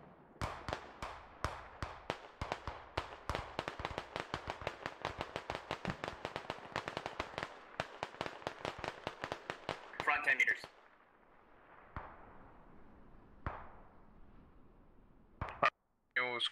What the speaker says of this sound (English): Sounds like two guns southwest.